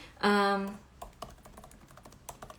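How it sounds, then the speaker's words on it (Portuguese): Someone types on a computer keyboard, with sparse, irregular key clicks close by, preceded by a short tonal voice sound at the start. "Eu tô digitando aqui para eu testar."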